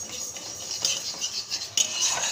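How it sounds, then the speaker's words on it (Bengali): Dry moong dal being stirred and roasted in a pan, a steady close scraping and rustling of lentils with scattered light clinks of a utensil against the pan, continuing throughout with no talk. "মুগ ডালটা শুকনো খোলায় ভেজে নিচ্ছি ভালো করে।"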